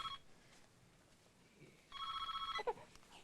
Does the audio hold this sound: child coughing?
no